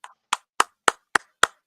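Six sharp hand claps spaced roughly evenly, crisp and fairly close, each decaying quickly, with no voices over them.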